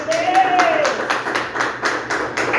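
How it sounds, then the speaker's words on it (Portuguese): Church congregation clapping hands together in a steady, rhythmic beat during a worship service, fairly loud and close, with a voice sounding briefly over the claps. "E exaltar o Senhor Jesus com as palmas bem alegres."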